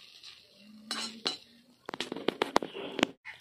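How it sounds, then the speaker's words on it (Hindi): A spoon spreading egg over bread in a pan makes a series of sharp metallic clinks and taps, sparse at first and then quicker and clustered, close and fairly quiet, with no voices. "चम्मच से चारों तरफ छितार लेते हैं"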